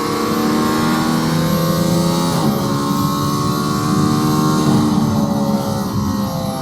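A Mercedes-AMG ONE hypercar accelerates hard out of the last corner of a race lap, its engine howling loud and close in a steady rising rev that climbs through gear changes with no pause.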